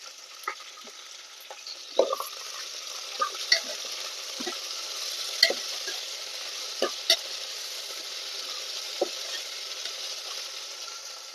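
Meat pieces frying in oil with ginger garlic paste for biryani, a steady close sizzle broken by repeated sharp scrapes and clinks of a stirring spoon against the pan.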